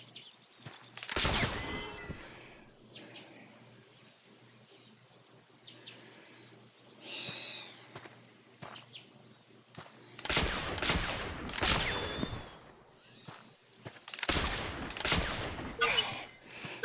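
Hunting gunfire in the video game The Oregon Trail: three loud, separate blasts spaced a few seconds apart, each a sharp crack with a short tail, with faint chirpy game sounds and quiet gaps between shots.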